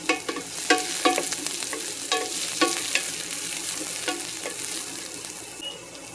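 Vegetables fry in a little oil in a pan on high heat, with a steady sizzle and repeated scraping stir strokes at a loose rhythm, close and clear, without any talking.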